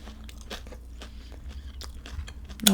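Close-up crunchy bites and chewing of Dave's hot chicken, a series of short crackling crunches in an uneven rhythm, with a sharper bite at the end and no talking.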